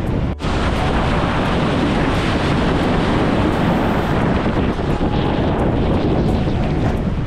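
Rough sea surf at Varadero beach in Cuba, a continuous heavy roar of waves with strong wind buffeting the microphone, loud and steady throughout with no voices.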